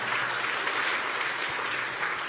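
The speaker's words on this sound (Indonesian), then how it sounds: "boleh kasih tepuk tangan dong" Steady, dense applause from an audience at a religious sermon held in a prison, continuous clapping at an even, full level throughout with no talk over it.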